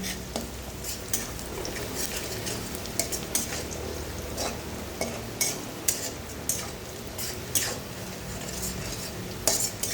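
Onions sizzle and fry in a wok for a fish curry, a continuous hiss broken by sharp metallic scrapes and clinks as a spatula stirs against the pan, fairly close and without talking.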